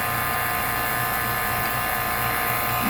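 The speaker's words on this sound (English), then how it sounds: "Now I can turn off the vacuum pump" A vacuum pump runs steadily while evacuating the refrigerant lines of a GREE 3-zone 24,000 BTU mini split during installation, giving a constant loud mechanical drone and buzz with no break and no speech.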